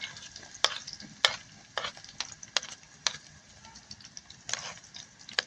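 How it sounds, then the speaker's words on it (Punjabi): Green chillies and onions roast in a pan, with a soft background sizzle broken by repeated sharp scrapes and clatters of a stirring utensil at an irregular pace, close up and without talk. "ਤੇ ਪਿਆਜ਼ ਇਹਨਾਂ ਨੂੰ ਭੁੰਨ ਲੈਣੇ ਆ"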